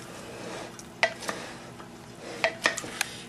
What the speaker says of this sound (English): Alright, so we want to fold that shrimp around in here.